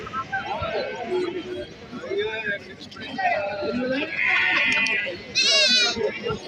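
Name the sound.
sheep bleating at livestock market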